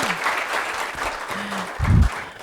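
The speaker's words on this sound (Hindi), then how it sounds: "तो सबके सब एक बार जोरदार ताली।" Audience applause at an International Day of Yoga session, a short burst of clapping that swells near the end after a quieter stretch.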